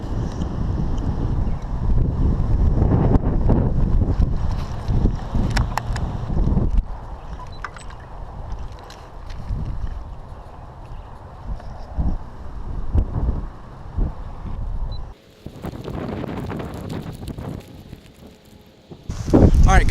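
Gusty wind buffeting a microphone outdoors while bass fishing from a boat, loud rumbling bursts that rise and fall, ease off for a stretch, then return strongly.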